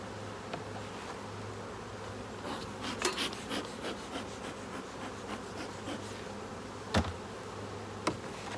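Honeybees buzz steadily around an opened beehive during a varroa count. Close wooden knocks and scrapes of frames and boxes being handled sound over the hum.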